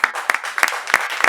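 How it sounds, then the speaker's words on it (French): Comedy club audience clapping in a brief burst, a dense patter of claps with a few sharper peaks, fairly close and steady over about a second. "On acclame sur le web TV."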